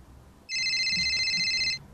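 A mobile phone gives a short electronic ringtone, one steady tonal ring of just over a second, clear and close against quiet background noise.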